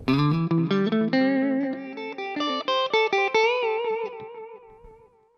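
A guitar picks a quick run of notes through a practice amp's analog delay effect, each repeated by echoes that trail off and fade, with no one talking.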